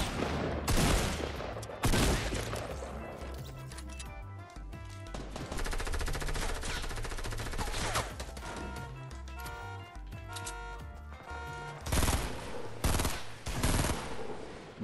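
Burst-fire gunshots in the video game Fortnite crack out in rapid, loud clusters throughout, with repeated quick volleys separated by brief pauses, close and dominant.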